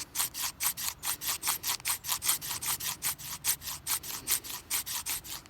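A knife spine rubbed back and forth on a sharpening stone, about two dozen even, rhythmic gritty strokes, close and steady, with no talking.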